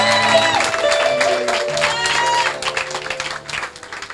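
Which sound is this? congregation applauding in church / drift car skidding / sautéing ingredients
congregation applauding in church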